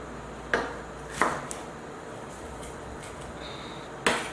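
A knife chops a bell pepper on a cutting board, giving a few sharp, separate knocks spaced about a second apart and heard close up.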